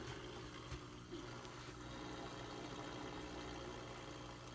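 Faint, steady hum and trickle from a home fish tank that is running with a fault, a low motor drone mixed with soft watery splashing, continuous and quiet.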